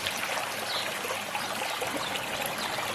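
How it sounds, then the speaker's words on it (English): Aerator bubbling and trickling in a koi pond about 4.5 feet deep, beside a bog planted with blooming iris; a steady, moderately close wash of moving water with no talk. "They got that aerator in there."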